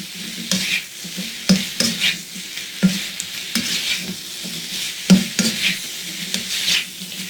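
Unripe mango pieces frying in a pan, a steady sizzle broken by repeated scraping stirs and clinks of a utensil against the pan, close and fairly loud.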